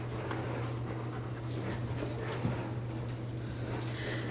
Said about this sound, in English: Both of my dogs are interrupting